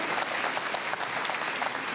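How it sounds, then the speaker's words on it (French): Audience at the AWE Awards 2018 ceremony in Wallonia applauding a winner called to the stage, dense steady clapping filling the room throughout. "on vous applaudit."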